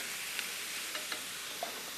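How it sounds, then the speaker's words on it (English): Food seasoned with dried Italian herb blend sizzles steadily in a frying pan while a utensil stirs it, with a few soft scrapes and taps over the constant hiss and no talking. "Keep stirring it"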